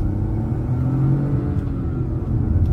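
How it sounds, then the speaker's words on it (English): Mahindra XUV 3XO TGDi launching hard, a loud low engine rumble and rising rev held throughout, with no distinct tire squeal standing out and no talking. "the car is very torquey, and the tires literally scream for traction"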